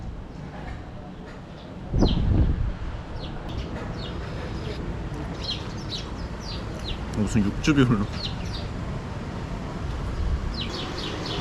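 Sparrows chirp in short bursts around a person talking, with the chirps scattered and fairly close, in Melbourne, Australia.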